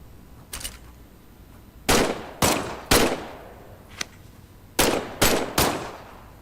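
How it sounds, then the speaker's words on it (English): Weapon test-fired in the Medal of Honor: Above and Beyond VR video game: several loud, sharp gunshots, some single and some in quick pairs, spaced irregularly over a few seconds with no talk. "why don't you test fire your weapon?"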